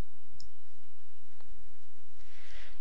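A computer mouse clicks on a trash can icon: two or three faint, isolated clicks spaced apart over a quiet background hum.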